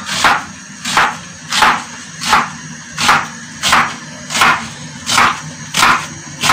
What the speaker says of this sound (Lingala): Nazokata matungulu na ngai mpona kotia na pondu.